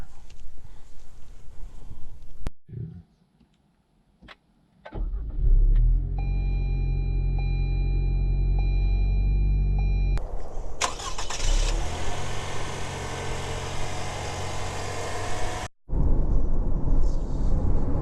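A Lexus NX 300 engine in sport mode starts with a sharp roar and settles into a steady rumbling idle, then revs up loudly, cutting off abruptly before resuming.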